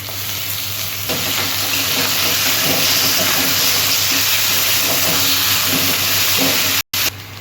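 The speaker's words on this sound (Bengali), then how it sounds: "এখানে আদা রসুনের পেস্ট আছে," Ginger-garlic paste frying in hot oil over already fried onions, a loud steady sizzle with stirring and crackle throughout, briefly cut near the end, for a prawn, potato and pointed gourd curry.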